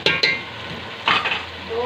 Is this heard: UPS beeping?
no